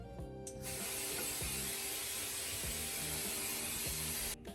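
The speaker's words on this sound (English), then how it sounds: "gonna be using some hairspray to hold it down" A can of hairspray releases one long, continuous hiss onto hair. The spray is close and steady for about four seconds, then stops, with faint handling noise underneath.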